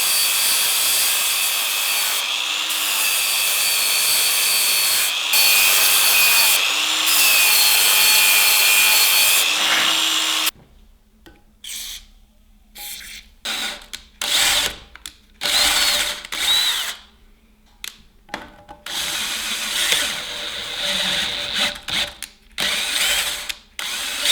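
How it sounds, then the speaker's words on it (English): Flap disc grinding the underside of vise jaw lips: a loud, steady, high-pitched grinding whine for about ten seconds, then broken, stop-start grinding passes with brief gaps, close and without talk. "I think I'm just gonna hit it with a flap disc."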